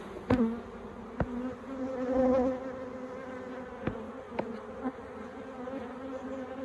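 A busy Flow Hive 2 colony of honey bees buzzes in a thick, wavering drone that swells briefly, punctuated by several crisp clacks and taps of frames being set in place, with no speech.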